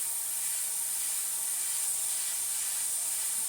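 An airbrush sprays touch-up paint on a Tamiya F-4B model. It makes a close, steady, even hiss that carries on without a break, with no talk over it.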